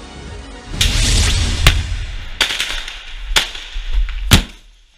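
Sharp gunfire cracks and heavy blasts from fighting in Gaza ring out as several loud, separated reports over a dense rumbling roar, with no voices.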